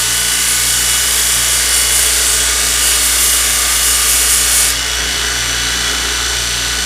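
A hacksaw cuts through a motorcycle seat mount on a Harley-Davidson Sportster bobber, giving a steady, close, loud rasping stroke that stays even for several seconds, then drops slightly in level near the end, with no talking.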